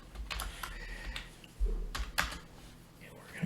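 Keys being typed on a computer keyboard during a coding session, a run of quick irregular clicks with a few louder strokes, close and fairly quiet.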